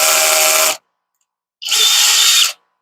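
A power drill with a bit fitted, on a low torque setting, whirs loudly in two short, close bursts separated by a pause of silence.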